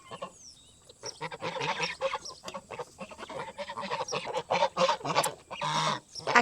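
Geese honk repeatedly and loudly close by, a noisy overlapping chorus of harsh calls with no talking.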